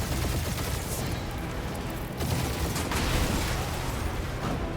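Sustained gunfire in Marvel's Guardians of the Galaxy video game, a dense continuous barrage of shots and blasts filling the scene without pause, loud and close throughout.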